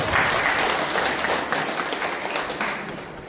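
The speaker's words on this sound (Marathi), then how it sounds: "आपला प्रश्नाचं उत्तर बरोबर आले की आपण टाळ्या जोडायच्या." An audience at a quiz on the Buddha and his Dhamma claps loudly after a correct answer, dense applause from many hands that fades slowly over a few seconds.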